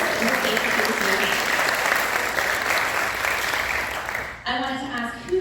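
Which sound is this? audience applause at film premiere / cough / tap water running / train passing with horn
audience applause at film premiere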